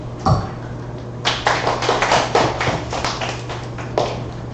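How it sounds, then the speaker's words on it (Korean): A debate host at a party members' forum claps alone at close range, a short run of sharp, evenly spaced hand claps after a single early tap, over a low steady hum. "저도 모르게 사회자가 박수 쳤네요."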